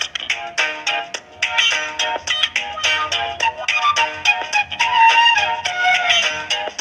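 A phone ringtone-style tone plays after dialing an outgoing call, a loud, repeating melodic pattern of rapid pulses that continues steadily throughout, close and alone.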